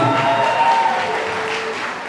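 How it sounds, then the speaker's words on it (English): Wedding guests at a walima reception at Whites Ferry Manor applauding, a steady wash of clapping that gradually fades, with no talk over it. "Ladies and gentlemen, give her a big round of applause."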